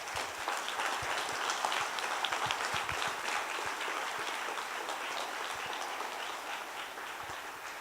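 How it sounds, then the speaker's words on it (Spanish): A church congregation applauds, dense and sustained clapping that fills the room at a steady level before easing slightly toward the end, with no talking heard. "¿Le puede dar un aplauso a nuestro amado Dios?"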